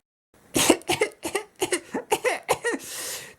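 Coughing from dust, delivered as a rapid string of about nine close, dry hacking bursts that end in a breathy rasp, with no speech.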